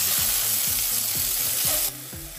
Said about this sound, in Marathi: त्याच कढईमध्ये 1 टमाटा आपण चांगलं तेल सुटेपर्यंत परतून घ्यायचं